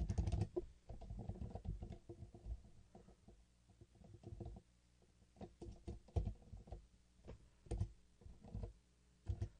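Fingers patter over a computer keyboard in irregular bursts of close, soft clicks with brief gaps between runs, while a Minecraft Tekkit game is played.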